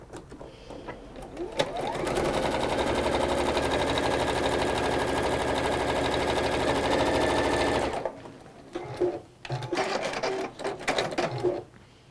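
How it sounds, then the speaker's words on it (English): A sewing machine stitches along straight seam lines in a steady, loud, rapid mechanical whir for about six seconds, then stops, followed by softer handling clatter and rustling of fabric. "So you're just going to sew along those lines there."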